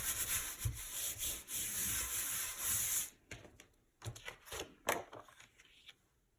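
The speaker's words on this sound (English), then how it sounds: "I'm going to turn it over to the back and I'm going to rub this way." Paper with an oil pastel drawing is rubbed firmly on its back, a steady close scratching swish for about three seconds, then a few short separate rubbing strokes.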